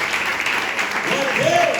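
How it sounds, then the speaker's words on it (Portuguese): Church congregation applause during a worship service, a dense continuous clapping from many people with voices calling out over it near the end. "Você pode dar mais uma salva de palmas para Jesus?"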